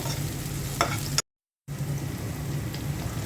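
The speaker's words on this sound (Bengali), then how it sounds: "ঢ্যাঁড়স ভাজিতে আমি কোনো পানি দিলাম না, তেলের মধ্যেই ভাজা ভাজা করব" Okra fries in oil with green chilies and lightly fried onion, giving a steady close sizzle with occasional stirring scrapes, broken by a brief moment of total silence before the frying resumes.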